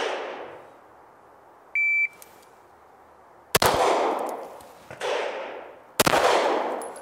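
Gunshots on a shooting range, with two sharp loud cracks that ring out into reverberant tails, plus a short electronic timer beep before them and no talking.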